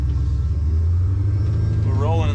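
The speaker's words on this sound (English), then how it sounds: "We're rolling in the passenger seat of the race car today" A Foxbody Mustang race car rolls along a street, heard from the passenger seat as a loud, constant low engine drone with a rising whine near the end.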